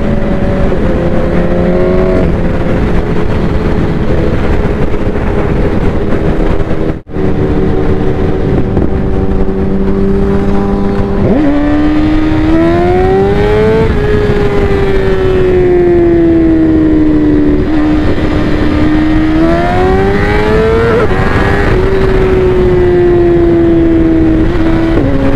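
A sport motorcycle accelerates hard and loud, the engine note climbing through long gears with pitch drops at each shift, heard close throughout with wind noise.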